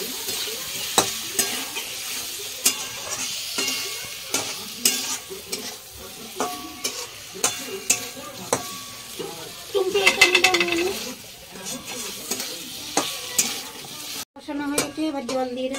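A spoon scrapes and clatters against a pan as eggs and tomatoes cook in spice paste, with a steady sizzle under repeated sharp stirring knocks.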